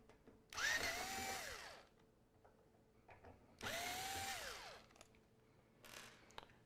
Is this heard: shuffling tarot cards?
no